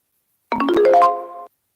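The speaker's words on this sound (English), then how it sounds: "Oh, my phone just made a noise." Phone notification chime, a quick rising run of bright ringing tones lasting about a second, loud and clear in otherwise silence.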